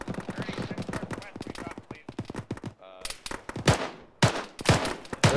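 Gunfire in the military game Arma with the ShackTac group at a jungle runway: rapid machine-gun bursts and single cracking shots, close and loud, with a few heavier reports near the end.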